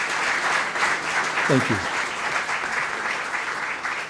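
Continuous audience applause at a conference on food and product irradiation, a steady broadband wash of clapping that persists throughout, with someone briefly speaking over it partway through.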